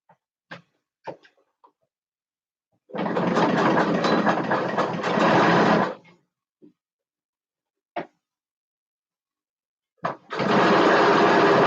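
A sewing machine top stitching around a waistband, running in two loud steady bursts of about three seconds and then a second or so, separated by quiet gaps with a few small clicks.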